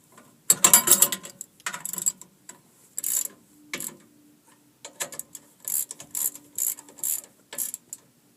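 Bolts being tightened on a trailer's removable jack bracket: a string of close, bursty ratcheting clicks from a hand wrench in several separate runs, with short pauses between them.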